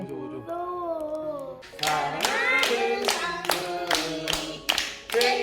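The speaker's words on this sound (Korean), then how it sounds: "박수" A few people clap in a brisk, uneven burst of applause at a birthday party over a tonal background melody, about a dozen sharp claps.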